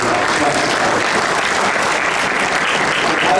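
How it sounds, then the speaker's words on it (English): An audience at a community dinner gives steady, dense applause that lasts throughout, close and loud, with no voices rising above it. "So a round of applause for them as well."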